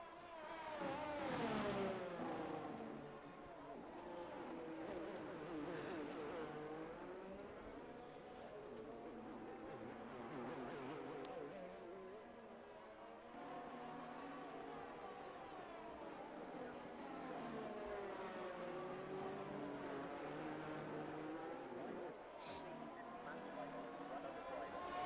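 Formula 1 race car engines, including a Ferrari, in the racing game F1 22: several high-pitched engine whines rise and fall continuously as cars accelerate and shift, with a commentator talking over them throughout.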